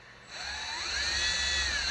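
A power drill bores into mining rig parts, its high whine starting after a short pause and climbing in pitch as it bites, loud and close, with no speech.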